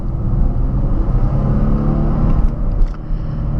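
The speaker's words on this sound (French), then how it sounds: "Quand je passe en mode sport, ça monte le régime de 300 tours minute." A Porsche Panamera V6 with 300 hp, in sport mode, gives a loud, close, steady engine drone with a deep low-frequency growl that holds strong throughout.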